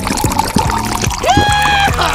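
Water poured from a bottle: a gurgling, glugging stream that rises in pitch as the container fills, heard up close, with no one speaking.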